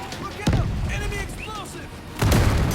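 Explosions in the zombie shooter World War Z, two heavy booms a couple of seconds apart, loud and close, with a player's voice and other game noise in between.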